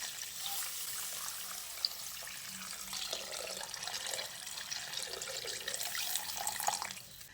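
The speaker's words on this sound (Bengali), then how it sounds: "জল দিয়ে দিচ্ছি।" Water pours steadily into a pot of Rui fish curry, a continuous splashing trickle with small drips, heard close and alone.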